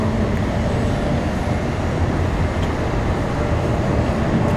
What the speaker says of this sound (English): Qatar here with that 777-300.